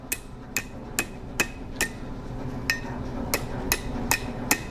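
A blacksmith's hammer taps a steel S hook on the horn of an anvil, giving about eleven sharp ringing strikes at a fairly even pace, loud and close with no talking.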